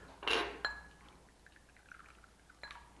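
Tea poured into a small piala bowl in Kyrgyzstan, a short close splash and trickle of liquid with light glassy clinks, then quiet before a brief second clink.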